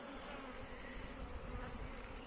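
Honey bees buzz in a dense, continuous drone, a close swarm humming steadily with no voices.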